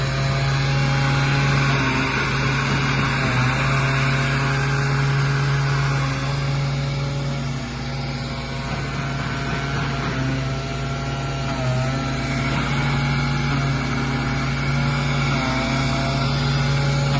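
A robotic sanding machine works along the edge of a panel, giving a steady, loud motor whine with a constant hum that shifts slightly as it moves into the corner, and no one speaks.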